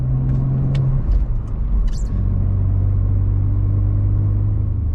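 BMW E46 car on an open country road during spirited driving, its engine a steady loud low rumble with a brief rev change early on, continuous throughout with no talk.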